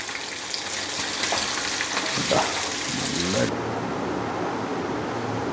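Bitter gourd deep frying in hot oil with green chillies and curry leaves gives a steady, loud bubbling sizzle that softens abruptly partway through, with a voice talking over it.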